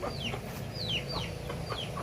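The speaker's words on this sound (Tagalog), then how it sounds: "Yan yung kanyang mga manok." Backyard chickens clucking in a rural yard, several short calls repeating at an uneven pace over a steady outdoor background, moderately close with no one talking.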